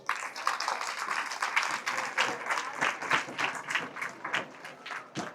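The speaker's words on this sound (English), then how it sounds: "Students, can you clap for your teachers," Students at a school inter-school debate event clap for their teachers, a sustained burst of many hands with individual sharp claps standing out, fairly close and lively for several seconds.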